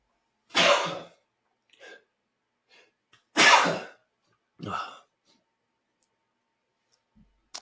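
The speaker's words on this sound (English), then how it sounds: "Let's sneeze here." Two sharp sneeze-like bursts a few seconds apart, close and fairly loud, each followed by a softer breathy sound, in an otherwise quiet room.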